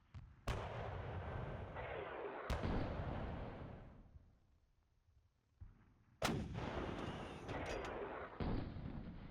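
Artillery barrages firing on anti-tank guns in the war game Panzer Campaigns: Stalingrad, several booming blasts with long rumbling tails, a quiet lull midway and then another heavy burst of fire.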